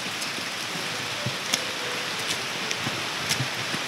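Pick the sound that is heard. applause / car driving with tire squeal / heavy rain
heavy rain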